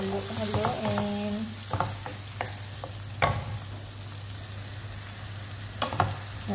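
Egg, tomato and onion stirred in a frying pan, with a steady sizzle and intermittent scraping clacks of a utensil against the pan, close by, and a faint hum underneath.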